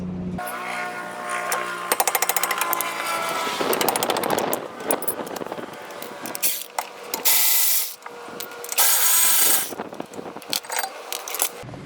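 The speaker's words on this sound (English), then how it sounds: "Removing this caliper mount, there's two bolts, one here and one here." A ratchet wrench works the caliper mount bolts on the rear brake of a 2008 Toyota RAV4, giving loud, rapid metallic clicking runs broken by short pauses and clanks of the tool and parts.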